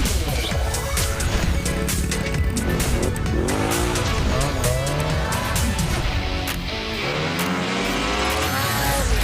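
Quad ATVs run along forest trails in central Québec, engines droning loudly and steadily throughout, with sweeping pitch changes as the machines accelerate and slow, and tire or skid noise riding over the engine roar.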